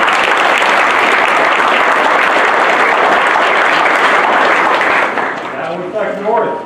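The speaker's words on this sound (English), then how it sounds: "big round of applause" Sustained loud applause from an audience at a school board of education meeting, dense steady clapping filling the room for about five seconds before tapering off, with some voices emerging near the end.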